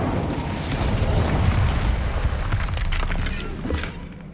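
The Incendio fire spell in the video game Hogwarts Legacy lets out a loud, roaring burst of fiery, crackling blasts that rumbles for a few seconds and then fades.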